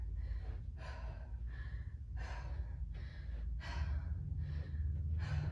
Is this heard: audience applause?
no